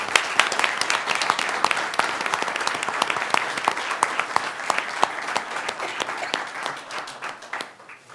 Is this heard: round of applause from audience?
yes